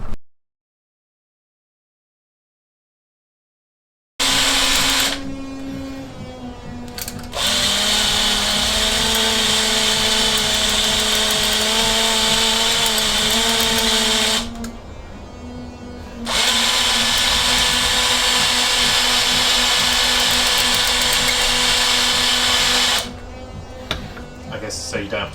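A power drill bores into the cylinder head of a classic Fiat 500 engine, loud and sustained in three long runs with brief pauses between, after a few seconds of silence.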